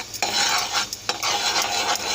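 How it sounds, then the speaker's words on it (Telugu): Gram flour is stirred into hot sugar syrup in a pan for Mysore Pak, producing repeated scraping strokes of a ladle over a low bubbling sizzle, close and fairly loud with no voices. "ఇప్పుడు శనగపిండి కూడా వేసేసి తిప్పుకుందాం"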